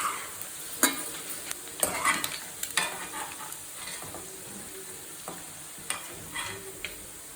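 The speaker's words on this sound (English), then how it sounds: "So now you can see the prawns have been fried." Prawns fry in hot oil for a prawn pickle, giving a steady soft sizzle broken by sharp clinks and scrapes as a utensil stirs them in the pan.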